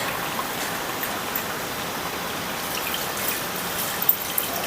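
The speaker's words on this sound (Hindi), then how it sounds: "तो इस स्टेज पे हम पानी डाल सकते हैं, और पानी थोड़ा भर के डालना है।" Water poured into a pot of cooking undhiyu, a Gujarati mixed vegetable dish, giving a steady, soft splashing rush that runs throughout, faint and close with no talking.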